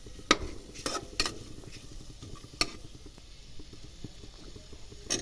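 Peas and long-sliced tomato sautéing in a pan give a soft, low sizzle, broken by a few sharp clicks and scrapes of a spoon against the pan.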